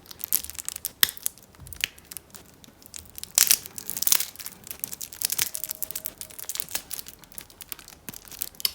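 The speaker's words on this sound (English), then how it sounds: "So I will open also one of those stacks, so we can see those cards." Wrapping torn and crinkled off a small stack of playing cards at an unboxing, with sharp tearing bursts and scattered crumpling crackles, close and fairly quiet, no talking.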